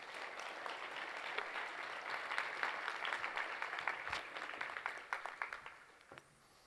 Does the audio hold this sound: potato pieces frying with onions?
no